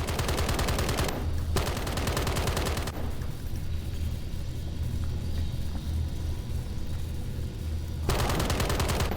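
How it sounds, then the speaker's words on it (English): Rapid, loud gunfire from Isaac's gun in the video game Eden Lost, with dense automatic bursts at the start and end and a heavy, rumbling barrage of shots in between, no voices. "Oh, it's Isaac's gun."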